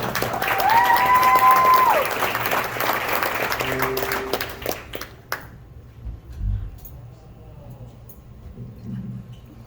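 Sustained applause from a big band concert audience, loud and dense for about five seconds with a brief high whistle-like tone, then thinning into scattered claps and faint room noise.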